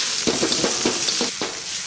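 Loud, steady sizzling of vegetables stir-frying in a hot wok, with a few scraping tosses, close up and alone.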